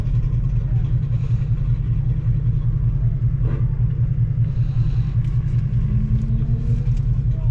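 A Mustang makes a timed run through a cone course, its engine a steady loud low rumble heard from some distance with a few brief higher tones, under faint background talk.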